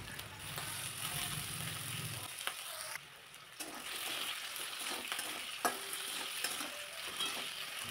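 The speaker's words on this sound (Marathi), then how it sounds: "थोडा वेळ एखादा मिनिटभर बटाटा व्यवस्थित तेलावरती असा परतून घेतला" Potato pieces sautéing in oil with mustard seeds and cumin, a steady close sizzle with repeated spatula scrapes and stirring clicks, with no voices.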